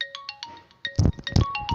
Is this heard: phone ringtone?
yes